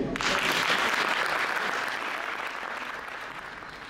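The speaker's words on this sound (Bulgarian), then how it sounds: "Нека ги посрещнем с аплодисменти." Audience applause at an interfaith art performance, a dense sustained clapping from a crowd that starts abruptly and slowly fades over about four seconds.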